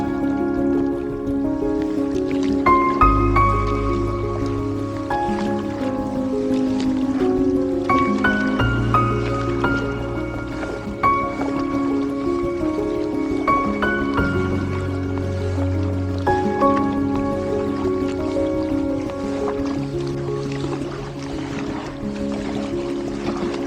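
A kayak moves along a river on Long Island, its paddle strokes dipping and dripping in a steady rhythm. Close, gentle water sloshes under a constant outdoor hiss, with no speech.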